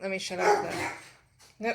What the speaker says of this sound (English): my dogs are going off.